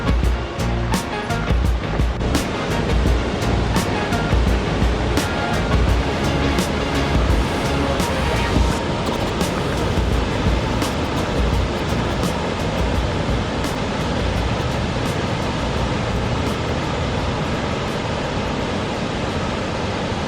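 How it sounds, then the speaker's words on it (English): The Upper Falls waterfall at Letchworth State Park roars as a steady, dense rush of water, loud and continuous throughout with no voices. "Taking a little walk to check out the Upper Falls"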